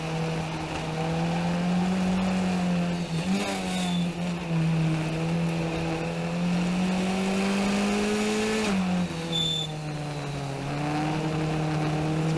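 A race car's engine drones loudly and steadily from inside the car during a race, rising and dipping in pitch with shifts and braking through corners.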